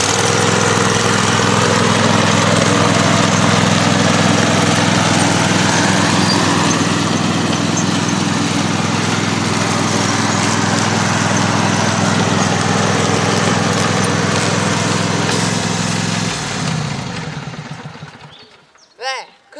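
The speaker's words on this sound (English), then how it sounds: "with the lawn tractor it's very simple, you just lift this little switch and it cuts grass." A lawn tractor engine runs steadily and loud while cutting grass, a constant drone holding for most of the stretch before dropping away near the end.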